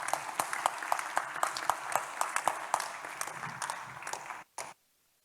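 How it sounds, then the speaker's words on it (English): Applause at a conference closing ceremony welcoming Nigeria's foreign minister, Geoffrey Onyeama: a modest crowd clapping with distinct individual claps audible, fairly quiet, then cutting off abruptly near the end before a last brief burst and silence. "Can we give him a round of applause, please?"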